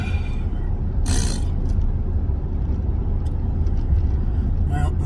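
Steady low engine rumble of a truck, heard from inside its air-conditioned cab, continuous and even throughout with a brief hiss or scrape near the start and a voice faintly present.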